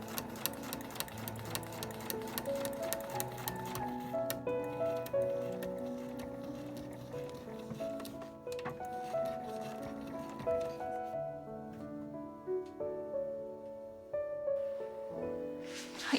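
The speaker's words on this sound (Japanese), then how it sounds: "だいたいこの厚みがあるところが終わるところまで縫っていきましょう" A household sewing machine stitches a nylon tote bag with a steady, fast mechanical ticking and whirring, fairly quiet and close, pausing briefly and then resuming in several runs.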